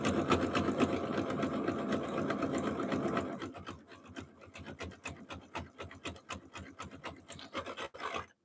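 A sewing machine stitches fabric strips into a jelly roll rug, running loud and steady for about three seconds, then slowing into a series of shorter, uneven bursts of stitching.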